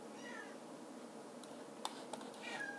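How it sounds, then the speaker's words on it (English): A house cat meowing indoors, a couple of short faint mews over quiet room tone, close but soft and alone. "My cat is disturbing me."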